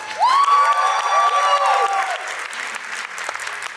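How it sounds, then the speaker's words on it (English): A dance competition crowd applauds and cheers, with a bright whistle-like shout rising over continuous clapping that tapers off as the noise settles. "One more round of applause."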